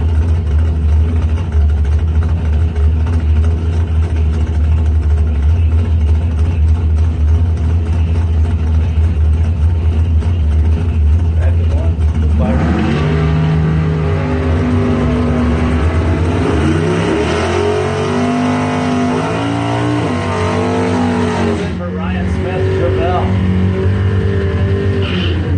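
Drag race between a 1969 Chevelle and a 1966 Chevy II at a doorslammer event: a loud idling rumble builds, then both cars launch and rev hard through the gears in a long, roaring run that fades near the end.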